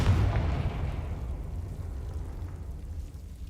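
A Confringo blasting spell detonating in the Hogwarts Legacy video game, a deep rumbling explosion that starts loud and slowly fades over several seconds.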